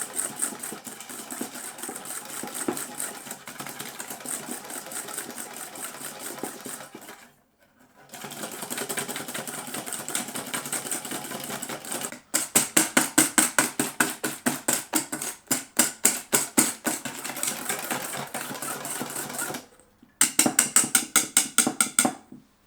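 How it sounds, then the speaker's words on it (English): An electric mixer whisks egg yolks with white sugar and vanilla for crème brûlée, whirring steadily with brief pauses and a pulsing, rhythmic beat later on, close and mechanical with no voices. "To the egg yolks, add the white sugar and vanilla sugar or extract. Whisk everything together until it is smooth and the sugar is no longer lumpy."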